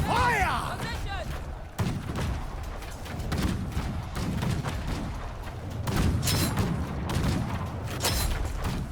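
Battlefield gunfire and booms from musket units in the video game Conqueror's Blade rumble under dense ongoing combat noise, with scattered cracks and thuds throughout while a voice shouts orders.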